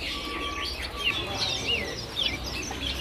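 Birds at a bird-market kiosk stocking cipoh (sirpu) give repeated high chirps and whistled tweets over a steady background murmur, near and fairly loud throughout.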